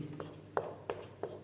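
Chalk or marker strokes on a board during a physics lesson, a handful of short scratchy taps spaced irregularly, close and fairly quiet with faint room background.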